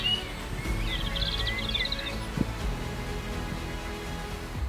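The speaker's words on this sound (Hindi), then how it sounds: "बहुत अच्छा पक्षियों की आवाज़ आती है इधर" Birdsong drifts through the grounds of the Lucknow Residency, a cluster of rapid high chirps and trills in the first half over a steady low outdoor rumble, with one sharp knock midway.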